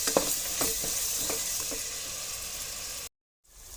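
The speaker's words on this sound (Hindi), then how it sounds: "ये मसाला हमारा तैयार हो गया और अच्छी तरह भुनाई हो रहा है" Spice masala fries in oil for masoor dal, a dense close sizzle with several quick stirring scrapes early on, then abruptly cut to silence before the sizzle returns faintly.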